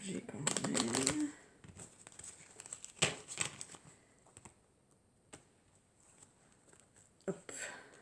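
A deck of cards being shuffled by hand, a dense burst of riffling flutter for about a second, then scattered light taps and card handling with a person speaking intermittently.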